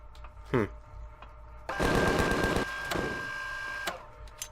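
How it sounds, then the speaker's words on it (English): Turrets turning in the video game Empyrion, a mechanical whirring and rattling that starts after a brief thump and runs for a couple of seconds, then continues more softly with a steady tone over it. "You hear all the turrets turning."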